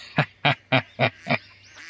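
Five sharp duck quacks come in an even, quick rhythm, loud and close, followed by a short fade.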